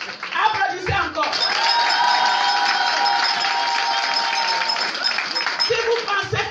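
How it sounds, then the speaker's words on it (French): Crowd at a political rally in Côte d'Ivoire applauding, a sustained dense wash of clapping and cheering that swells and holds for several seconds, with brief voices at the start and end. "Si vous avez compris, applaudissez encore."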